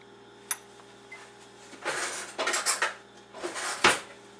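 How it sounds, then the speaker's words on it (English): A spoon scrapes ketchup out of a measuring cup, making a single early clink followed by several close, rough scraping strokes against the cup. "You can use a spoon to get the rest of that out if you want."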